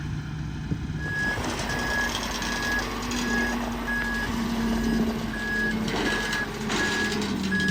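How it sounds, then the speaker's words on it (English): A four-wheel-drive Genie lift backs up on a building site, its reversing alarm beeping at an even, regular pace over the low rumble of its engine. "Maybe a little 4-wheel drive genie lift will get it."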